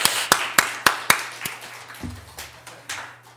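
A few slow, separate hand claps during a church worship and fellowship gathering, loud at first, then thinning into softer scattered taps over a low steady hum.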